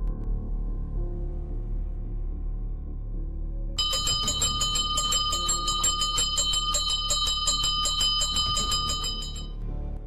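A bell rung as an alarm in a story setting, bright rapid metallic clanging that starts abruptly partway in over a low background and continues for several seconds.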